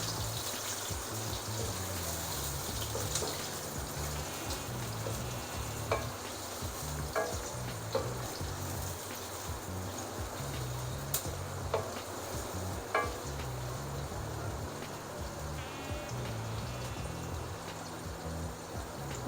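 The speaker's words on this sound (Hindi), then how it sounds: "प्याज डाल देती हूँ। प्याज़ों को थोड़ा सा फ्राई करना है, बिल्कुल लाइट सा फ्राई करना है" Onions frying lightly in hot oil over medium heat while beef paya is prepared, giving a steady sizzle with occasional utensil taps and stirring scrapes for nearly twenty seconds.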